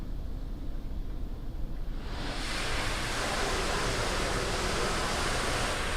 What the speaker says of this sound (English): So this should be the spot-free rinse.